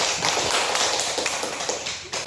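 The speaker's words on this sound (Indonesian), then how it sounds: "kita kasih aplaus kepada kelompok 4" Group applause for group 4 at a university class session: a steady, fairly loud wash of many hands clapping at once, lasting a couple of seconds.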